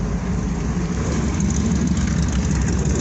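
A 1958 Chevrolet Apache pickup with side exhaust exiting just ahead of the wheels idles close by, a steady, loud, even rumble throughout with no talking.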